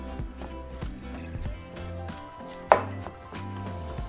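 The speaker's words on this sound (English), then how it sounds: "we're going to add our walnuts. And now we're just going to mix it together again" Cookie dough with walnuts being mixed by hand for Mexican wedding cookies, giving soft repeated thuds and scrapes at a steady rhythm, with one sharper knock partway through, close and fairly quiet.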